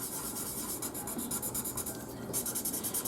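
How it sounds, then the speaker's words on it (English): A blending marker rubs over green colored pencil on paper for a card, giving a soft, continuous scratchy friction with quick repeated strokes, close and quiet. "Then I'm going to take this over the green and just rub."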